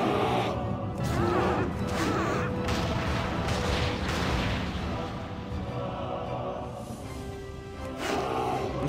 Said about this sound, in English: Run all the way to the end and avoid the cannons!